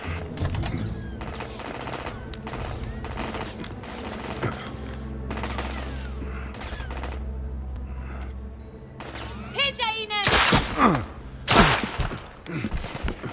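Gunshots in the video game The Order 1886: rapid bursts of automatic fire through most of the stretch, then a louder, sharper cluster of shots near the end, with a low rumble underneath.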